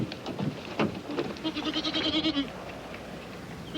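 Goats bleat close by, a couple of wavering, nasal calls, the longest one stretching out over a second, amid faint rustling.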